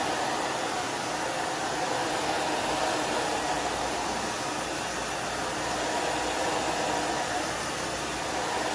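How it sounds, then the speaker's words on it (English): A hair dryer blow-dries an asymmetrical bob haircut, giving a loud, steady, unbroken airy whoosh that holds constant throughout with no voices. "it's really important on how you blow dry, especially if you want volume"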